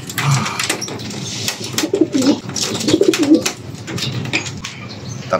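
Racing pigeons cooing at a derby race, several soft low coos repeating over a steady background of ambient noise and faint bird movement, close by.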